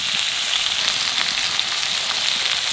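Raw tomatoes frying with salt in a pan, a steady bright hissing sizzle that stays even and close throughout, with no voices over it.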